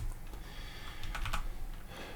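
Rapid typing on a computer keyboard while code is being written, a steady patter of close key clicks with a few sharper strokes, no voices.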